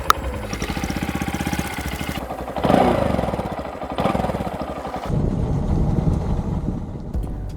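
A 125cc Honda Monkey motorcycle is self-started and then settles into a steady idle, the small engine chugging evenly and close by with a faint background hiss.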